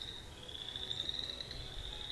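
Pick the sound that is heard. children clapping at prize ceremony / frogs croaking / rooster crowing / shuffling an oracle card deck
frogs croaking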